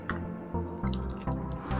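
Homemade ghee, made from butter churned out of milk cream, is stirred in a kadhai, giving repeated wet, squishy scrapes in a steady rhythm of about four strokes. The strokes are close and loud over a low background hum.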